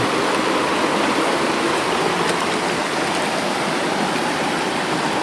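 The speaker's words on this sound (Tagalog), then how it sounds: "Bali dyan dumadaan yung tubig." A river's water pours through its channel in a constant close, loud rushing hiss that never lets up, with no one talking.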